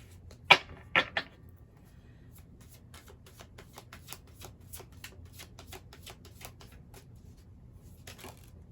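Tarot cards are shuffled close by, with a few sharp riffling bursts at the start followed by a quieter run of light flicks and taps.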